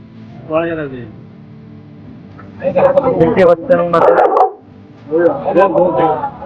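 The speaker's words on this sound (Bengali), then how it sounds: "দেখতে পাচ্ছেন বিরল জাতের কিছু কুকুর" Rare-breed dogs at Subarnagram Resort in Narayanganj bark and yip in three loud, close bursts, with short quiet gaps between them.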